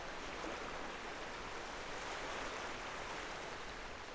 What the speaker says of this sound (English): Looking here at the ocean.